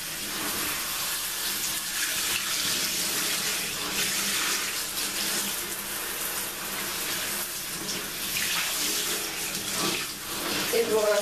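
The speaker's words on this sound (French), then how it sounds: "vous rincez jusqu'à temps que ce soit très clair ou voir qu'il n'y ait plus du tout de poudre" Tap water gushing steadily while rinsing a hair powder mask out, a continuous splashing hiss with small fluctuations where hands move through the stream.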